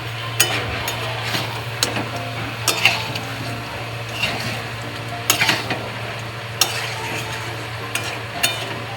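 Mutton and potato curry with tender young goat meat stirred in a pot, a spoon scraping and clinking against the metal in irregular bursts over a steady low hum and soft sizzle.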